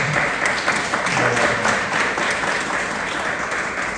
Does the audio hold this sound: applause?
yes